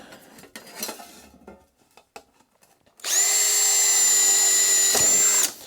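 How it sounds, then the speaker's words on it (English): A few light clunks and taps, then a high-pitched drill whines steadily for a couple of seconds while boring through thin aluminum sheet, stopping abruptly. "And we'll drill a hole here."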